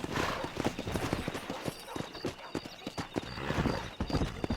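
A horse gallops in Red Dead Redemption, rapid thudding hoofbeats close up with a whinny and faint gunfire mixed in, and a voice can be heard briefly.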